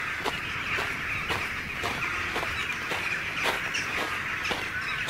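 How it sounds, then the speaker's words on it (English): Birds calling from the trees of an old estate woodland near Cresswell Tower, with repeated bright chirps recurring about every half second over steady high-pitched background chatter, fairly close and continuous. "some birds up there, look"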